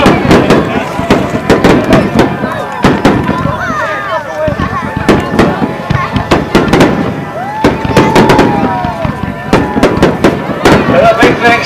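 Round Eyes Fireworks display over the back straightaway of a race track at Sara Park, with rapid crackling bursts and booming reports in near-continuous volleys, loud and close, while an announcer speaks over a PA.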